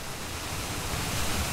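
A roaring waterfall fills a valley with a dense, unbroken rush of water, loud and steady with a deep low rumble and no other sounds.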